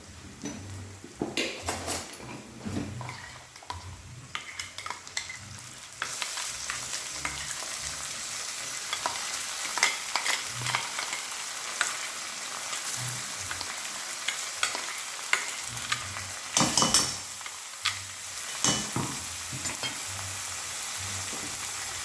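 Onions fried deep red for chicken curry sizzle steadily in a pan as spices go in, with scraping stirs and occasional metal clinks, louder and denser after the first few seconds.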